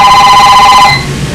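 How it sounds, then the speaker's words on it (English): A telephone rings loud and close in a workshop, one trilling electronic ring that lasts under a second before cutting off, with no one speaking. "You can't get away from this phone today."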